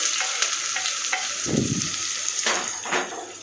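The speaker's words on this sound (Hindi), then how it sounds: "हमें अनियन को ब्राउन करना है, अच्छी तरह से भून के" Onions and garam masala fry in a pan with a steady close sizzle, broken by a few scraping stirs and a brief louder burst of spattering midway, with no talking.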